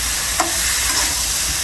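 Spice paste (masala) frying in a pan while being stirred for a winter vegetable dish, a loud continuous sizzle with a sharp spoon scrape near the start and no talking.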